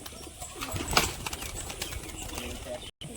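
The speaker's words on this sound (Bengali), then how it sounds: "একটা নর পায়রা, সাদা চোখের মধ্যে ফ্যাসা পায়রা, এটার আমি একটু বাজি দেখাবো এবার।" A male white-eyed fasha pigeon takes off with a quick burst of flapping wings, close by, amid faint cooing and outdoor noise, with a voice talking underneath.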